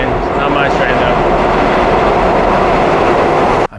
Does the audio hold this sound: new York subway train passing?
yes